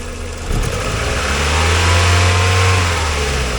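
A worn 1997 Mazda Miata M Edition with a slight miss and some blow-by, its engine rising off idle into a steady, fairly quiet rev, heard close up with no talk.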